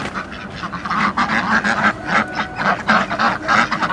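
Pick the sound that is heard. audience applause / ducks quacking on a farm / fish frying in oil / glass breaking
ducks quacking on a farm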